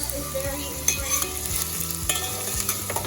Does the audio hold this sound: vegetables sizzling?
yes